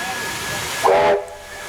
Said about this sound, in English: the 232 class engines now make their way to Mulgrave.